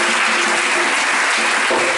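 A church congregation applauding, a dense, loud and steady wash of clapping from many hands with no break.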